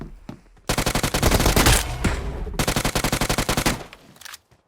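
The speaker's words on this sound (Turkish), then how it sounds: "Bir yerlerden birileri bana sıkıyor ama." Automatic gunfire in the video game PUBG Mobile, with two long, loud, rapid bursts of shots aimed at the player, separated by a short gap and followed by a fading tail.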